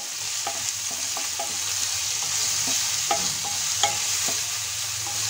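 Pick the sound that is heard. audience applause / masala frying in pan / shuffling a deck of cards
masala frying in pan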